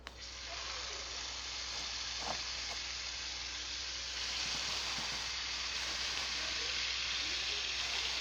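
Chicken frying in about a quarter cup of oil in a pan, a steady close sizzle and hiss running throughout with faint crackles, no voices.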